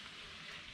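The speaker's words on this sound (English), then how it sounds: "But you can hear it sizzling." Boston butts and brisket sizzle in a hot smoker, a steady, fairly faint crackling hiss like frying fat, continuous for under a second with no voices.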